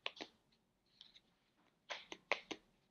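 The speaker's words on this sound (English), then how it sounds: "Now we can cut this carefully, the other side as well." Scissors snipping through yarn wound on a large Clover pom pom maker, several sharp close cuts in quick pairs, quiet and separated by short pauses.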